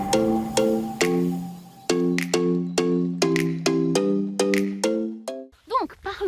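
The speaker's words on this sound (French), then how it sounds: "d'activer la cloche pour recevoir toutes les notifications" A bright bell notification sound effect chimes repeatedly in a quick rhythmic series of resonant dings, loud and close, ending with a short warbling swirl.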